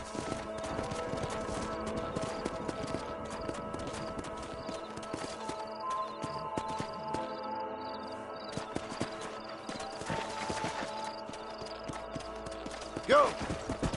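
Horse hooves clip-clop in a steady walking rhythm in Red Dead Redemption 2, mid-distance amid a busy bed of ambient game sound and music, with people talking over the top.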